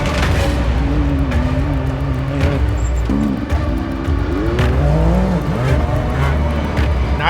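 Race cars roar past on a dirt oval track during a traction race, loud and continuous engine noise with rising and falling pitch as several cars pass close by.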